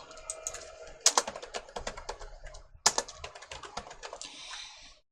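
Computer mouse clicks while building a smartphone app, a series of close, sharp clicks in irregular bursts with a couple of louder taps, heard alone in a quiet room.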